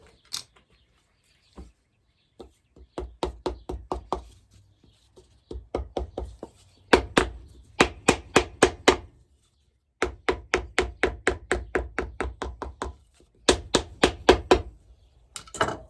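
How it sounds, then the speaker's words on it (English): A hammer drives a sole onto a handmade shoe in bursts of quick, sharp wooden knocks, several clusters of rapid taps separated by short pauses, close and clear with no talking. "Once we hammer it on, nail it on from the inside of the shoe"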